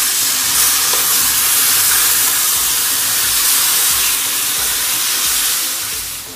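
Chicken pieces being lightly sautéed in a pan give a loud, continuous sizzle with faint stirring scrapes. The sizzle fades slightly at the very end.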